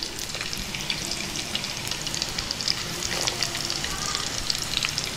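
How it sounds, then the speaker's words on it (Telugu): Onion and garlic pieces fry in oil with tempering spices for moong dal sambar, crackling and spitting in a steady close sizzle with crisp pops throughout, no voices. "ఉల్లిపాయ ముక్కల్ని బాగా వేగనిద్దాం."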